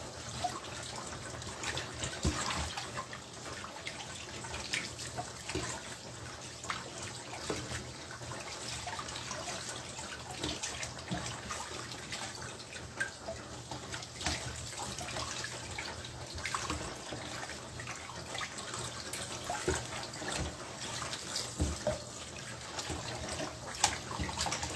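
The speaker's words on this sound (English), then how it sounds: "You can rinse it from here inside the pot that you want to use." Water runs steadily from a tap into a pot as proteins are rinsed inside it, a continuous close splashing and trickling with occasional drips and clinks, going on for a long stretch without talk.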